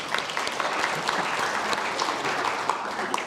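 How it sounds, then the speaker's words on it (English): Audience at a software testing conference applauding, a moderate, even spread of many hands clapping steadily throughout, fairly soft and slightly distant. "Round of applause for these people, please."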